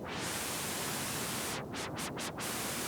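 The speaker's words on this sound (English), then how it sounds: "You also got white noise." White noise from an ESTRADIN 230, a Soviet-made Minimoog clone synthesizer from the 1980s, hissing steadily and loudly across the whole band, alone, with a few brief swept dips in its upper range toward the end.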